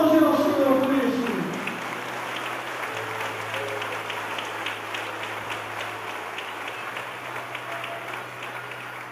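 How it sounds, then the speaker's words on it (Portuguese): A church congregation claps together during a Portuguese-language worship service, a dense, sustained wash of applause that slowly fades, with a low steady hum underneath. "Vamos aplaudir ao Senhor por isso."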